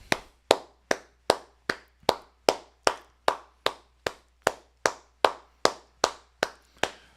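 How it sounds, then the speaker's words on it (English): One person claps hands alone in an evenly paced, steady series of sharp slaps, roughly two per second, crisp and close in an otherwise quiet room. "Long, lengthy clap."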